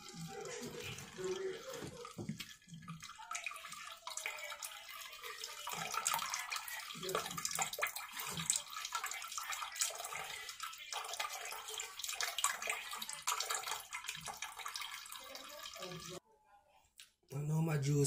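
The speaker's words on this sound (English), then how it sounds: "So now what I'm doing is I'm straining my juice." Celery, carrot and green grape juice is strained, giving a steady watery pour and trickle that runs almost continuously before briefly cutting out near the end; a voice talks over it.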